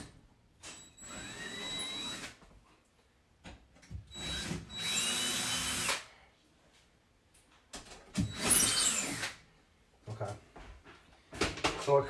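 A power drill bores a mounting hole in a wall while a range hood microwave is being replaced, giving three loud whirring bursts a few seconds long with pauses and brief quiet talk between them.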